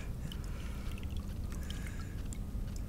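A 31lb 8oz mirror carp is returned to the lake water at Abbey Lakes, with soft close splashing, dripping and trickling water over a low ambient rumble.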